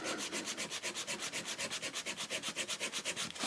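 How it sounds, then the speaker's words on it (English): A rust eraser scrubs back and forth across a diamond sharpening plate in quick, even strokes, a steady rhythmic rasping close up with no voices. "So now if we use this rust eraser"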